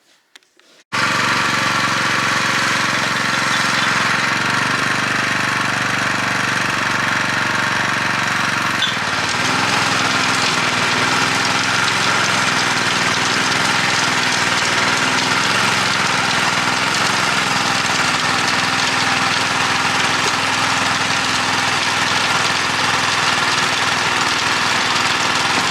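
A neglected Honda F810 rotavator runs continuously with a loud, steady petrol engine drone, close by, with a brief dip in tone partway through and no voices.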